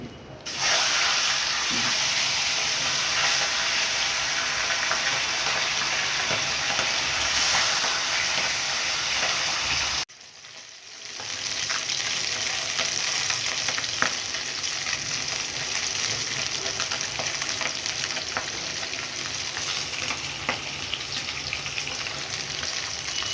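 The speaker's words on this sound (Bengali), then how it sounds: "এরকম করে আমি সব মাথাটা ভেজে নেব।" Fish heads sizzle steadily in hot oil, a loud continuous frying hiss with a brief dip around ten seconds before the sizzle resumes at full strength.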